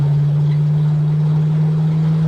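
A 1968 Ford Mustang restomod rumbles at a steady, low, bassy burble during a ride, loud and constant, with no voices over it.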